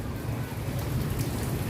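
Heavy rain pours down in a steady, dense hiss with a low rumbling undertone, continuous and fairly close.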